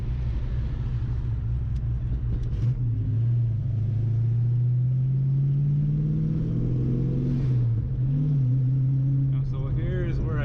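A 1993 Ford Mustang Foxbody with a 5.0L V8 pulls hard in second gear, its loud, steady engine drone climbing in pitch, dipping at a shift near the end, then revving again, close and continuous throughout.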